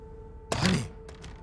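A door slams shut in the horror game The Evil Within, a single heavy thunk with a short rumbling tail, followed by a softer knock, over a faint steady background hum.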